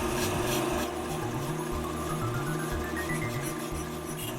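A brake lathe makes its initial cut on a brake rotor, giving a continuous droning machine hum with a steady grinding, rasping texture, close and uninterrupted.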